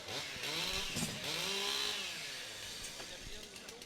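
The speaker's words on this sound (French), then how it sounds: "Allez préparer vos scies mécaniques." Chainsaws run at a timber-sports competition, a steady engine whine rising and settling at moderate distance with a faint pitch sweep, under a busy outdoor background.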